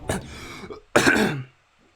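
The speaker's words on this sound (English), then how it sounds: "Coughed mid-attempt." A person coughs twice, a short throaty burst then a longer, louder harsh cough, close to the mic, followed by quiet.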